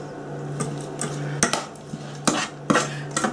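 A spoon stirring crumbled beef stock into a pot of pea soup, several sharp clinks and scrapes against the pot over a faint low hum.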